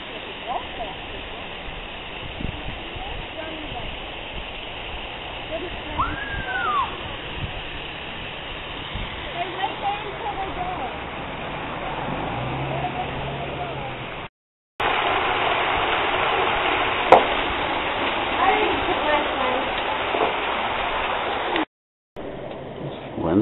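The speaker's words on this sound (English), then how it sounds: "Beautiful waterfalls" A decorative waterfall splashes in a steady, even rush at a miniature golf course, forming a continuous broadband wash with some outdoor ambience, broken briefly by two short gaps of silence.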